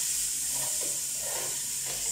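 Onions sizzling as they go into a biryani pot, a steady bright hiss of hot oil throughout, close and even, with no talking.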